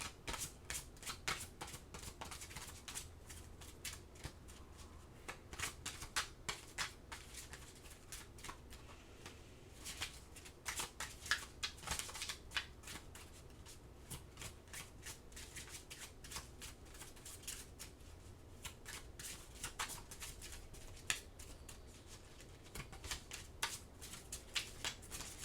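Oracle cards being shuffled by hand, close and fairly quiet, with repeated crisp riffling bursts and soft slaps coming in an uneven rhythm for about twenty-five seconds, no voice over them.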